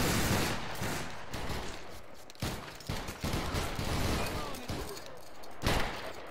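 A musket volley in the Battle Grounds III game during a linebattle: loud bursts of many overlapping shots crackle together, then decay into the echo before the next ragged wave of fire.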